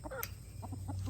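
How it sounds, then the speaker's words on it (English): Hens in a backyard flock with a rooster cluck in a few short, close bursts over a faint steady background hum. "Then we've still got our beautiful rooster."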